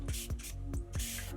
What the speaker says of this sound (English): using a spray bottle to just re-wet this head